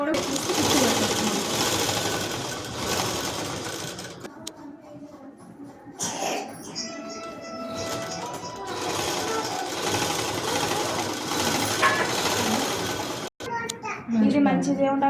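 A sewing machine stitches the body of a langa skirt with a loud, close, rapid mechanical whir that runs in long bursts with short pauses, while children's voices chatter in the background.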